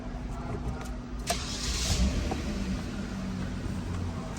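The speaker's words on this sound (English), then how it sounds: "Then start the engine." A 2008 Kia Sorento engine cranks and catches, then settles into a steady low idle, fairly quiet throughout.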